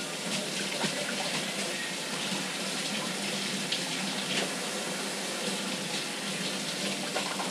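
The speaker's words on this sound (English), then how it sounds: "Wash my hands." Water running steadily from a kitchen tap into a sink while hands are washed, a constant splashing hiss filling the whole stretch at moderate level, no talking.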